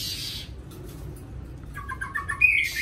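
Caged magpie-robin songbirds give a short run of chirps partway through, fairly close but modest in level, over a steady background hiss and low rumble.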